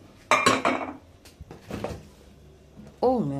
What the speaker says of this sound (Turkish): Şu büyük pilav tencerem bu benim.